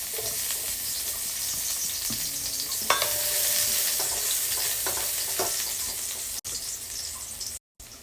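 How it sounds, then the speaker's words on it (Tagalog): Chopped garlic hits hot cooking oil in a pan for a clam sauté, bursting into a loud, steady sizzle that crackles on, with brief clinks and scrapes of stirring. "Pag mainit na yung mantika, ilagay natin yung bawang."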